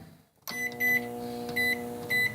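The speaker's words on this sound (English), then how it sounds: "Let's pop that in the microwave." Microwave oven heating a bowl of instant chili mixed with hot water: a door thunk, then a steady electric hum with a tonal drone, with repeated high beeps rising clearly above it.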